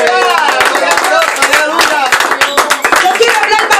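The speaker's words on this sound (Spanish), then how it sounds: "¿Cuánto le da un aplauso al Padre," A church congregation claps close and loud during a Spanish-language service, with sharp, uneven hand claps and shouted voices mixed in.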